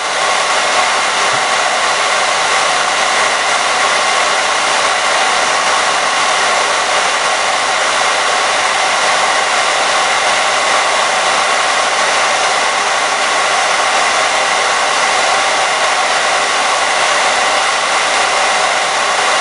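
A hair dryer on its low setting blows steadily and loudly for the whole stretch, drying alcohol-based paint on a rock, with no one speaking.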